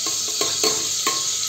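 Cinnamon and cloves fry in a teaspoon of coconut oil in a pressure cooker, a soft steady sizzle broken by several sharp scraping stirs, heard close with no speech.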